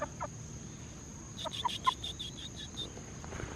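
Chickens on a tiny farm after a two-day storm give a few soft clucks and short calls, clustered in a brief burst midway over a quiet background with a faint steady insect-like whine.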